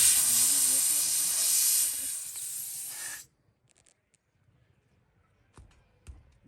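Air hissing loudly and steadily out of a punctured tyre on a Maruti Breza car, cutting off abruptly after about three seconds, followed by near silence with faint handling noises.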